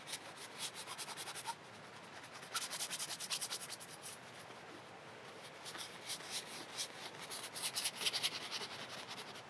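A brush scrubs yellow ochre paint onto canvas outdoors in a wet field, giving a steady, soft bristly rasp with quick repeated strokes that grow busier toward the end, close and fairly quiet, with no voices.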